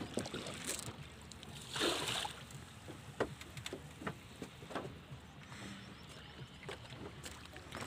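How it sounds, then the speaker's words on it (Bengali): Boat hauled by hand along a river, with soft water movement, wind and occasional knocks and splashes at moderate distance, and faint voices in the background. "এইভাবে দেখছেন কীভাবে নৌকা টানছে।"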